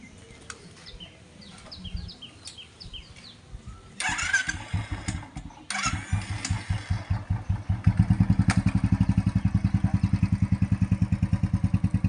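A Royal Enfield Bullet motorcycle with a punctured front wheel is kicked and cranked, then fires into its loud, steady thumping idle, close by, with a few bird chirps and clatter before it catches.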